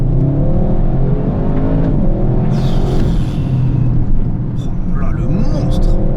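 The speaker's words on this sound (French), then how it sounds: "Quel moulin ce V8." An Audi RS with a V8 engine rumbles loudly and steadily as it is driven hard on a twisty road, the revs rising and falling continuously under a constant heavy drone.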